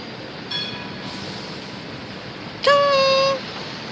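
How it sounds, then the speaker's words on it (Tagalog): A train horn sounds twice from nearby during a drive, first a short faint blast, then a louder held blast lasting nearly a second, over steady road rumble and no talk. "Train."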